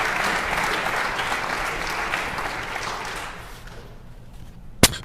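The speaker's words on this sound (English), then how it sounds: "let's give him a round of applause for Mr. Andre Allen" Audience applause in a community gathering room for Mr. Andre Allen, a steady dense wash of clapping that fades toward the end before a single sharp knock.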